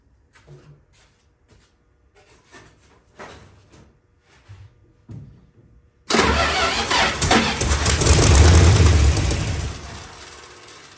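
A Plymouth Barracuda's 440 V8 cranks and fires with a sudden loud roar that runs for several seconds on its own, after a stretch of quiet clicks and fiddling sounds.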